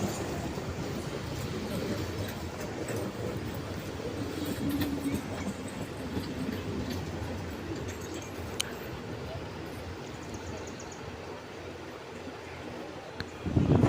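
A train pulls in and runs along a rail line, a steady broadband rumble and rattle holding at moderate level throughout, with some wind and faint background voices.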